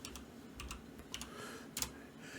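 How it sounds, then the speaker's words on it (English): Fingers tap a computer keyboard for a Control F search in a few quick, soft, clustered keystrokes with short gaps, quiet and close. "I'm going to hit Control F and type in flour"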